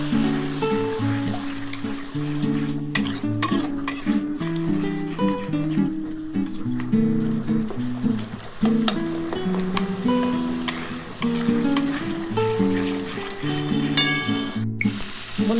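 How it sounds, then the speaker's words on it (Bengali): Katla fish kalia masala, made with little oil and green chillies, is sautéed with a splash of water. A steady sizzle and occasional stirring scrapes run under background music. "জল দিয়ে একটু কষাচ্ছি বন্ধুরা"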